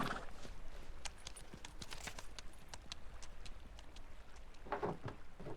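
Horse hooves clip-clop steadily through heavy snow in the video game Pentiment, a quick, even rhythm of soft thuds heard close and alone with no talk over them.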